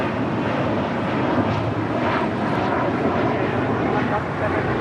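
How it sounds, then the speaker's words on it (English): Virgin Atlantic Airbus A350-1000 departing from the south side at LAX, a steady broadband jet roar filling the clip at constant loudness with no break or fade. "A very rare south side departure for the Virgin Atlantic"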